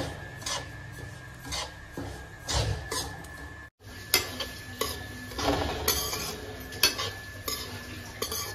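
Semolina roasting in a pan while a spoon stirs and scrapes it, repeated close rasping strokes over a soft continuous sizzle, briefly interrupted midway, with no talking.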